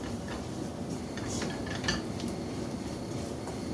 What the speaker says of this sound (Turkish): Sürekli böyle karıştıralım ki unumuz dibine çökmesin